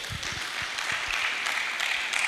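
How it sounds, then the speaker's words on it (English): At a teachers' award event, an audience gives a round of applause, a moderate even patter of clapping with some low thumps early on, heard at a slight distance in a large room. "Please, another round of applause for Mr."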